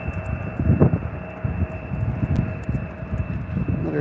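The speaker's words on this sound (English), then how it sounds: "Another turn and burn from the small plane up in the sky now." Small plane flying over Albany International Airport, a steady broad engine drone with wind buffeting the microphone, fairly distant and continuous throughout.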